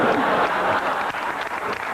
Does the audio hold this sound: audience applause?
yes